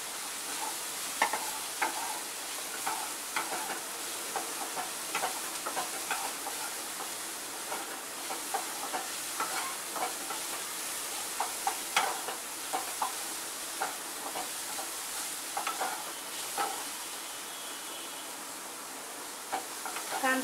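Onion frying with a little turmeric in a pan, a soft, steady sizzle running throughout, punctuated by frequent light clicks and scrapes of stirring.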